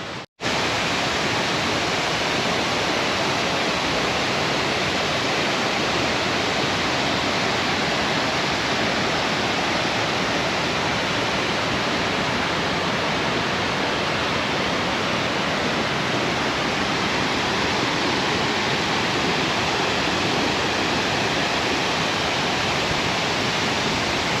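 Tad Saephra, a wide waterfall in southern Laos, roars as a steady, loud broadband rush of falling water that holds constant and close for the whole stretch, with no voices over it.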